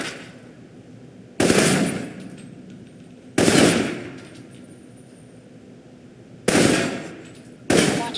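Assault rifle fire in the Alpha Protocol video game comes in four loud, close bursts of rapid shots, each sharp volley separated by quieter stretches of ambient background.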